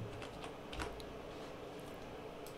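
Quick, light keystrokes tapped on a computer keyboard in a few short clusters, close and quiet against a soft background hum.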